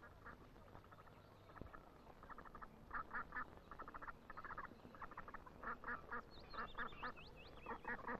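Ducks quack in a British village, with repeated short bursts of calls at a moderate distance over steady outdoor background noise, growing busier toward the end.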